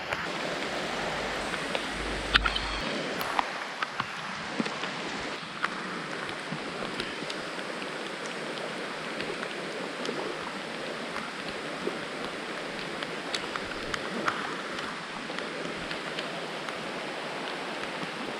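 Rain falls outdoors during a fishing trip, a steady hiss of drops spreading evenly across the whole stretch, with a few brief knocks near the start.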